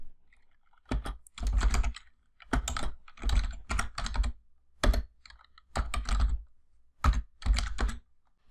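Fingers type on a computer keyboard in bursts of rapid clicks, entering data into an Excel spreadsheet form, with short pauses between bursts and no talking.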